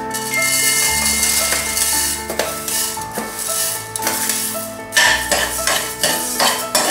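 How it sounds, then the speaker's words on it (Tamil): Coriander seeds roasting in a couple of drops of castor oil in a pan for sambar powder, with steady stirring scrapes and light clinks of a utensil against the pan over a continuous dry sizzle, close and fairly loud. "அதே மாதிரி 2 டிராப் விளக்கெண்ணெய் ஊற்றி நம்ம கொத்தமல்லிய வறுத்தெடுத்துக்க போறோம்"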